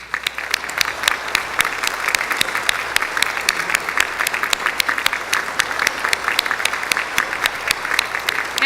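A large audience at the Lasker Awards ceremony applauds an honoree as he stands, a sustained, dense roll of many hands clapping, loud and even throughout with no speech.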